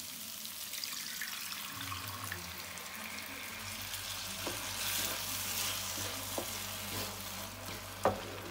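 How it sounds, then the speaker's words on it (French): Water poured into a hot pan of shrimp and rice, hissing and sizzling steadily at close range with a few light clinks of the pan, no voices. "Et maintenant je vais ajouter l'eau pour cuire le riz"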